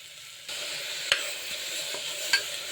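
Tomatoes fry in a pan with a steady close sizzle that jumps in volume after a moment, broken by a few sharp clicks of a spoon stirring against the metal.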